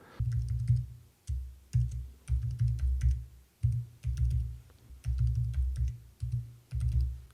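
Someone types on a computer keyboard in short bursts of rapid key clicks separated by brief pauses, close and clear, with no one speaking.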